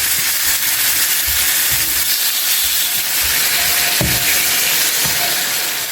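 Boneless chicken pieces frying with garlic in a hot pan, a steady close sizzle and hiss running throughout with occasional soft stirring bumps and no talking.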